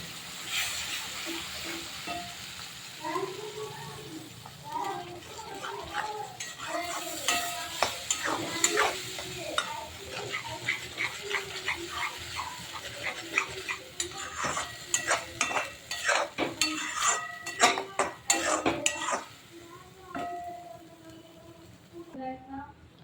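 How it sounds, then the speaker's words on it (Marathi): Homemade masala of turmeric, goda masala, coriander powder and garam masala roasts in oil in a pan, sizzling steadily while a spoon scrapes and stirs in quick, uneven strokes. A voice talks over the cooking at times. "हे बघा मसाला पण मस्त भाजला आहे तेल सुटत आहे"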